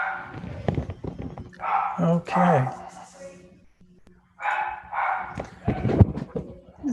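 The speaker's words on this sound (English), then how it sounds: "Who's barking? Oh, my dog." A dog barks repeatedly in bursts, mixed with a person talking nearby.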